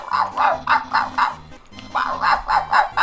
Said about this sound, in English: there's a dog